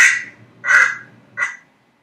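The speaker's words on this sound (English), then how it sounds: "Ooh, it's a duck." Duck quacking three times, close and clear, with a loud first and second quack and a shorter third, in an otherwise quiet setting.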